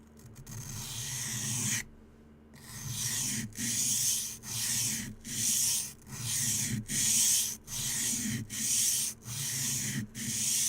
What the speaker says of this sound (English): I know I'm kind of doing a freehand sharpening at the moment